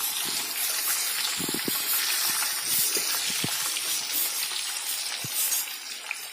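Pumpkin pieces frying in oil in a pan for a traditional Dogra dish, giving a steady, close sizzling hiss throughout with scattered light clicks and scraping knocks, and no voices.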